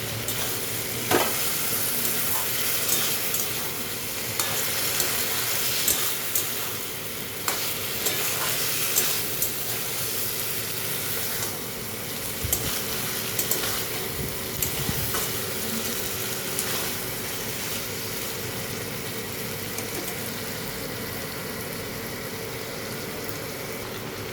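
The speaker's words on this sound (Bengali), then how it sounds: "একটু করে জল দেবে আর এরকমভাবে কষিয়ে নেবেন" Chicken mince sizzles steadily as it is sautéed in a pan with splashes of water, a continuous frying hiss broken by scraping stirs and clinks of the spoon, close and alone throughout.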